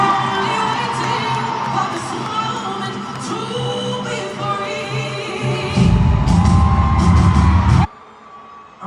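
A loud stadium crowd cheering and whooping during a Star Spangled Banner performance, a dense roar of yells with a surge near the end before cutting off, close and continuous.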